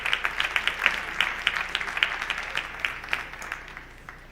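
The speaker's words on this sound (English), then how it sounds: "how about one more round of applause" Applause for high school basketball players at a winter sports awards ceremony, a steady crowd of hands clapping with sharp individual claps standing out, gradually thinning toward the end.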